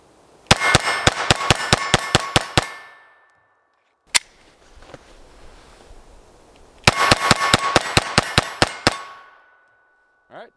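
A Glock 44 pistol fires two rapid strings of about nine sharp, loud shots each, separated by a lone shot and a quieter pause with faint handling noise.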